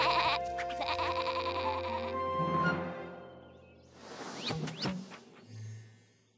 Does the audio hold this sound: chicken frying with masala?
no